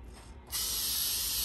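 Spray paint hisses steadily from an aerosol can onto a plastic model Chevrolet Corvette Z06 car body, a close, continuous burst that starts abruptly after a brief quiet moment.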